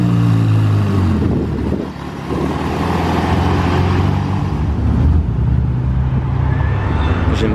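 Ferrari F8 and Ferrari 488 Pista supercars passing at a car-spotting outing, a loud continuous engine roar with low rumbling tones that swells and holds steady close by, without pause.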